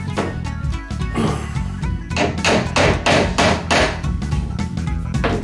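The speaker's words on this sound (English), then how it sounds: "time to hammer this in place" A hammer drives a piece into place during a bathroom restoration, with a run of sharp, close, fairly regular blows, some ringing and some dull, heard alone.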